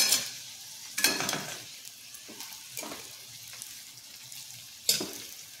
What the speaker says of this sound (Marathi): दोन चमचे मिरची पावडर, हळद आणि व्यवस्थित परतून घेऊया।